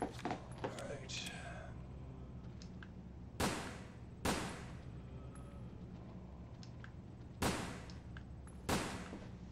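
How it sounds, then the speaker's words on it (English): Gunfire from the video game Resident Evil: Dead Aim, played with a GunCon 2 light gun: four sharp, loud shots spaced a second or more apart, with fainter game sounds and murmuring in between. "Take some pot shots here."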